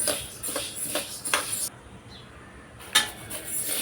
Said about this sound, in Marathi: अजून थोडा वेळ आपण 2 मिनिटं ह्याला अजून लालसर भाजून घेऊया